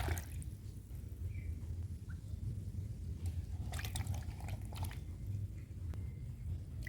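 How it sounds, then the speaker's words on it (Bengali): Cut raw green bananas are washed by hand in water, giving continuous close sloshing and dripping with a low rumbling splash throughout. "এখন আমি কাঁচা কলাগুলিকে ধুয়ে নিচ্ছি।"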